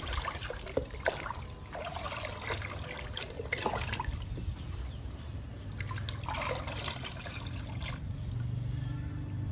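Pomegranate peel paste is stirred into water, giving a continuous close sloshing and trickling with intermittent small splashes throughout.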